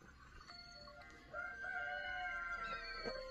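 A neighbour's rooster crows once in the morning, a faint, distant cock-a-doodle-doo rising over low background noise.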